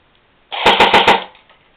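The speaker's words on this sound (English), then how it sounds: "And then on auto, sounds like this." Short full-auto burst from a Well M4 R7 airsoft rifle on a 7.2 volt battery, about four rapid mechanical clacks in under a second, close and loud, with a brief whir before and after.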